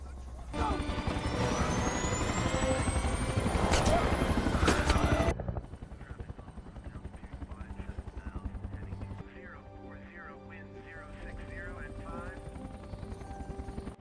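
A helicopter's rotor roars loudly for about five seconds during a rooftop rescue in Newark in the film World War Z, then drops to a quieter background hum with voices over it.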